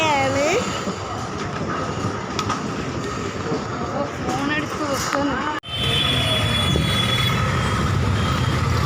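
A train standing at a station as passengers get off, with a steady wash of rail and platform noise, faint wheel or brake squeals and voices talking throughout; the sound cuts out briefly partway through, then resumes.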